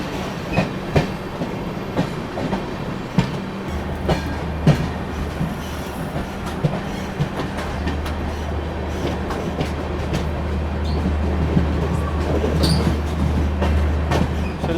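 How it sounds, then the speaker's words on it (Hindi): The Patna Kota Express rolls past close by at a railway station, its wheels beating a steady clickety-clack over the rail joints above a loud, deep, continuous rumble that grows toward the end. "चले गई अपनी पटना कोटा एक्सप्रेस।"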